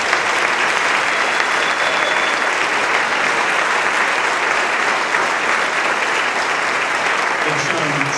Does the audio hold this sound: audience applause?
yes